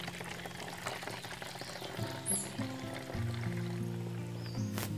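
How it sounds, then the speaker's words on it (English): A vinegar and salt solution pours through a funnel in a steady liquid stream, rising in pitch slightly as the container fills, close and moderately loud with no talking. "So now I'm going to pour it in."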